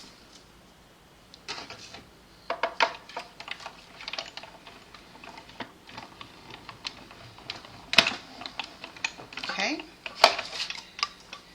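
A die cut machine presses through basic white cardstock, giving uneven clicks, clacks and rattling knocks that come in bursts at close range, with a brief spoken word.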